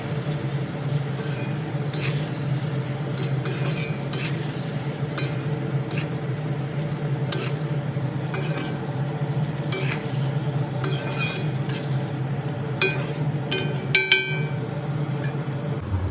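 Frozen peas are stirred into a homemade katla fish curry with potatoes in a pan, giving a steady low sizzle with soft squishing stirs and a few light clinks of utensil on metal, without any talking.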